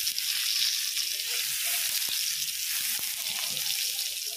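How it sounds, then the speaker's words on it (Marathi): Chilapi fish frying in oil in a pan, an even dense sizzle heard up close for the whole stretch, with a couple of faint clicks from underneath and no voices. "आता अशाच पद्धतीने सगळ्या चिलापी मी फ्राय होण्यासाठी ठेवून दिलेल्या आहेत"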